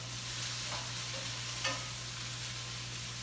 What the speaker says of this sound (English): I'm going to stir them.